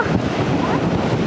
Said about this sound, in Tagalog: Kay grabe, kalakas ng hangin.